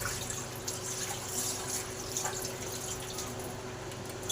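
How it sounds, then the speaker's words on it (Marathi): Tap water runs steadily into a bowl as ration rice is rinsed for idli and dosa batter, a continuous close splashing wash with faint drips and no voices. "आता बघा नळाच्या पाण्याने 2 ते 3 वेळा आपण धुवून घेऊया."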